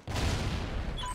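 Heavy gunfire in the video game Call of Duty: Ghosts: a dense, loud, continuous burst of shots and booms that fills the whole moment without letting up.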